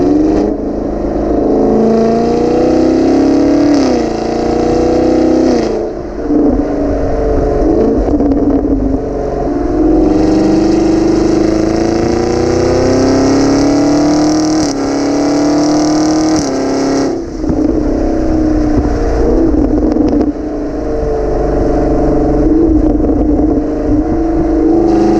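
A 2019 Chevrolet Camaro SS V8 with a 10-speed automatic, loud from inside the car under acceleration, the exhaust drone climbing and dropping through a series of gear shifts.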